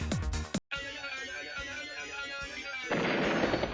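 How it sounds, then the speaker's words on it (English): A gunboat exploding in Advance Wars: Days of Ruin: a sharp, loud burst of explosion and gunfire, followed by a sustained rumbling, crackling blast tail that swells again near the end. "Oh, that was the gunboat exploding."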